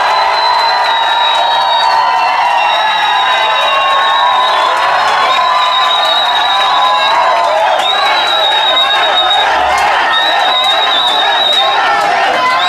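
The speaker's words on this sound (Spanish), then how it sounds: "Aplausos también para Pablo y Jesús." Sustained loud cheering and shouting fill the room from a talent-show studio audience, with scattered applause and whoops and no letup throughout.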